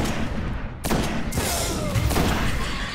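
Rapid gunfire in the video game Destiny, a dense, continuous run of shots and thuds loud and close, with no talking over it.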